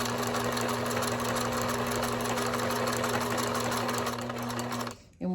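A sewing machine runs at a steady fast pace while stitching fabric, a loud close rhythmic whir with a hum under it, then it stops abruptly near the end.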